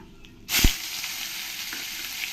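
Onion paste drops into hot oil holding cumin seeds, dried red chillies and bay leaves. After a brief near-quiet moment it erupts into a loud, close sizzle that settles into a steady hiss.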